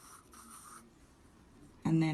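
A pencil scratches softly across paper while drawing a circle, first as a faint rubbing and then as a louder burst near the end. A voice speaks briefly over it.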